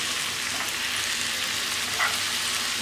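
Ginger garlic paste fries in a pan, a continuous close bright sizzle with a faint stir near the middle.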